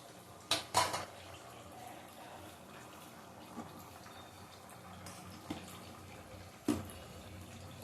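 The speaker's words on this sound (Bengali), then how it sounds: "কড়াইটা বসিয়ে দিলাম।" A metal wok (kadai) is set on a kitchen stove to heat for tempering mung dal, giving a couple of sharp metallic clanks near the start and another later, over quiet kitchen background noise.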